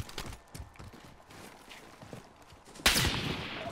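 A distant sniper shot cracks out in a battle-royale style video game, a single sharp report near the end following quieter scattered thuds and footstep-like taps.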